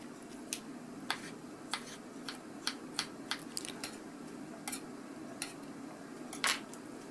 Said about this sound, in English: and cucumber. We just slice it into small cubes.